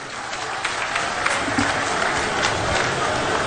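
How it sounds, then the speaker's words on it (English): A crowd at a post-election acceptance speech event applauds loudly and continuously, a dense wash of clapping with some crowd noise mixed in. "A round of applause for Sheikh, ladies and gentlemen."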